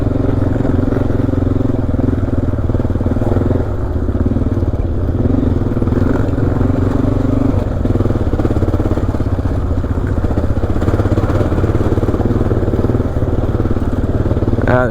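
XR motorcycle engine rumbling loud and steady as it rides over big square-edged rocks in a wet Oregon rainforest, with clattering jolts mixed into the continuous close drone.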